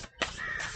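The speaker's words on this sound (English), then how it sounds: "All the crows." Crows cawing outdoors, a brief harsh call after a short pause, loud and fairly close, with steady background hiss.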